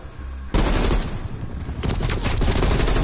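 Sustained heavy gunfire in Call of Duty Cold War, a quiet start giving way after about half a second to a loud, dense, continuous barrage that intensifies toward the end.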